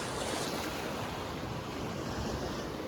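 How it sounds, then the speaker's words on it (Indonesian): Ocean waves breaking on a quiet beach at Pantai Alfa Momong, a continuous loud wash of surf mixed with wind buffeting the microphone, with no voices. "Ini ombaknya udah mulai kencang ya."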